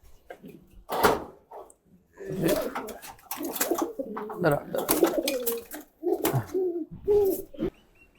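A pigeon coos in short repeated bursts up close, with quiet pauses between phrases and some light handling noise.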